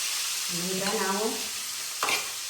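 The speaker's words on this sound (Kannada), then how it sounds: "ಮತ್ತು ಈರುಳ್ಳಿಯು ಮತ್ತು ಟೊಮಾಟೊ ಹಣ್ಣು, ಮೆಣಸಿನ್ಕಾಯಿ ಇದಿಷ್ಟು ಒಗ್ಗರಣೆ ಹಾಕಿ ಚೆನ್ನಾಗಿ ಹುರಿಯಬೇಕು" Onion, tomato and chili sizzle in hot oil for a traditional sambar tempering, a steady bright frying hiss with a brief stirring scrape near the end, close and alone.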